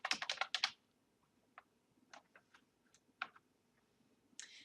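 Someone types a range name into Excel on a computer keyboard. A quick burst of close keystrokes comes first, then slower, scattered clicks, all quiet and with no talking.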